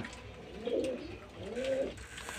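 Pigeons cooing close by, two soft drawn-out rolling coos in succession over quiet background, no talking.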